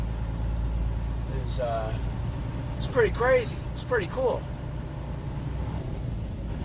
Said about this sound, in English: driving a truck underground